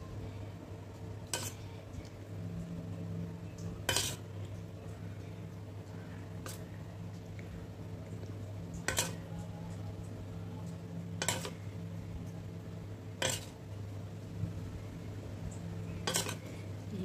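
A metal spoon clinks sharply against a bowl a handful of times while mixing light batter, the ticks spaced a few seconds apart over a quiet, steady background hum.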